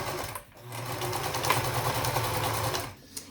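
A sewing machine runs a quarter-inch seam along a two-layer fabric mask, whirring steadily and close up, with short dips near the start and end of the run.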